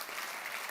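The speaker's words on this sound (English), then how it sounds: "Give Babs a big round of applause." Applause from a meeting-room audience for a volunteer, a steady, fairly faint patter of clapping hands filling the brief moment with no voices on top.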